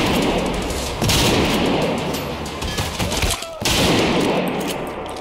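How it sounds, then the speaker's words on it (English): Loud gunfire from the video game Trepang2 rattles in dense automatic bursts with heavy blasts, pausing briefly midway, while a player talks over it. "You shot your buddy"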